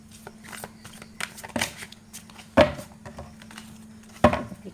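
Tarot cards riffle and slap softly during a shuffle, light papery flicks building to two sharper snaps against a quiet steady hum.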